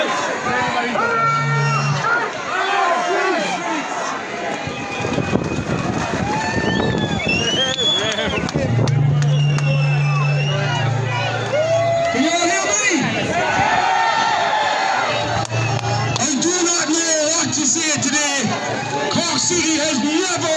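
A huge protest crowd fills the streets of Cork City, a dense roar of many voices, shouts and cheers carrying steadily throughout, with individual voices and chants rising over the loud babble.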